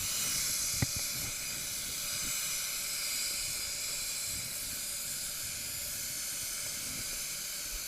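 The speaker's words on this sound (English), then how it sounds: "You could alternatively just use like the air gun, an air duster gun or an air blower. Just go over that a couple of times." Air duster gun blowing a steady hiss of compressed air over a car panel during spray painting of a Volvo S80, a continuous close airflow after a brief click at the start.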